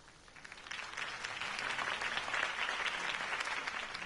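Crowd applause in the Batman Live video game, a dense wash of clapping that swells in over the first second and holds steady and fairly loud throughout, with no voices over it.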